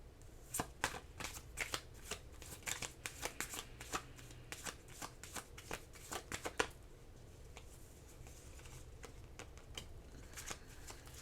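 Tarot cards being shuffled by hand, a run of quick crisp riffling bursts in an uneven rhythm, close and fairly quiet, easing into sparser slaps toward the end.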